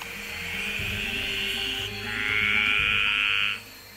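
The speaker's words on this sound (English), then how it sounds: "There's a graceful tree frog calling right underneath him" A graceful tree frog gives two sustained, buzzing trills, the second louder and sharper, over a low rumbling hum.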